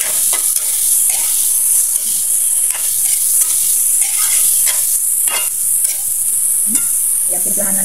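Soaked bitter gourd (ampalaya) sautés in a hot pan for a Filipino dish with egg, giving a loud, continuous, close sizzle broken by repeated scraping stirs.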